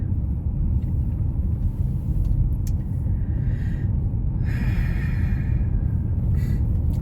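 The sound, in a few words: Honda Odyssey reversing into a driveway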